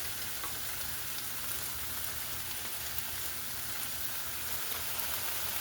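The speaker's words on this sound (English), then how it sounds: "they're getting a nice sear on them" Beef pieces searing in a hot pan for beef and broccoli, giving a steady, even sizzle and crackle that runs unbroken throughout, close and moderately loud, with no talking over it.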